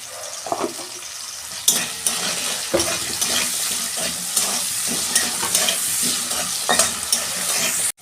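Potato pieces fry in a pan for a vegetarian ghugni, giving a steady, close crackling sizzle with stirring scrapes and small clatters throughout, no voices.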